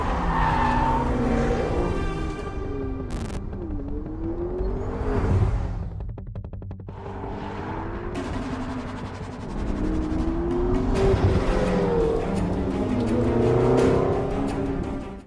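McLaren 12C sports car driving hard with tires squealing and skidding through long screeching passes, engine revving rising and falling underneath, loud and near throughout.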